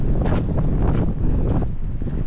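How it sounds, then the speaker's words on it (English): Gusty wind on a cloud-covered hilltop in a stormy ghost town buffets the microphone in loud, rumbling surges that rise and fall throughout, with no voices. "Sorry about the wind, everyone."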